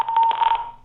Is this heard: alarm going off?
yes